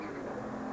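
Porsche race car at a 1998 British GT race, its engine a steady broad roar as it approaches the listener, loud and continuous with no talk over it.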